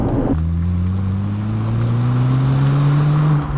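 A Fiat Panda 100 horsepower, bought as an MOT failure, drives on the road with a steady engine drone whose pitch rises slowly as it pulls along. The engine is loud and close, and no one speaks.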